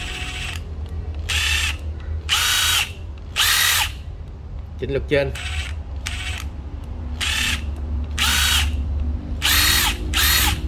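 A used Japanese cordless drill whirs in hammer mode in repeated bursts of about a second each, with short pauses between them. Near the middle someone speaks briefly among ratcheting clicks.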